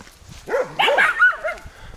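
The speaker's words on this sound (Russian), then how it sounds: "Ах, собаки." Dogs bark close by in a quick burst of several high, yelping barks and yips over about a second, loud against an otherwise quiet background.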